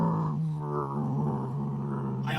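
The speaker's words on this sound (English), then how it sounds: "Yeah, there's a growl." A low, rumbling growl sounding from inside a building, sustained and droning with a steady tone, moderately loud and unbroken for the whole stretch.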